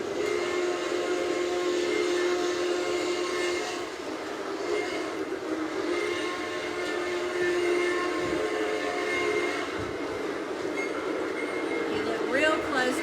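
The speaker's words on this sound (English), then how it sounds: "We're going to give this train some sound." A steady mechanical chugging of a model steam train runs continuously, with a brief whistle-like tone near the end and faint voices in the background.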